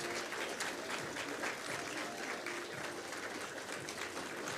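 Town hall audience applauding while a VIP entourage settles into seats: thick, sustained clapping from a large crowd, steady and unbroken throughout, with no voices standing out.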